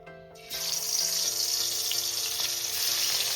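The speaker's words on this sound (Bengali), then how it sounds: "প্রথমে আমি ইলিশ মাছের মাথাটা ভেজে তুলে নেব।" A hilsa fish head rubbed with salt and turmeric drops into hot mustard oil, which bursts into a loud, steady sizzle after a short quiet start and keeps frying with a bright, continuous crackle and no talking.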